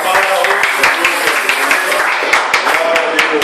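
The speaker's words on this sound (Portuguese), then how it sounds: "salve de palmas" A church congregation claps during worship, sharp rhythmic hand strikes mixed with voices and music, loud and close throughout.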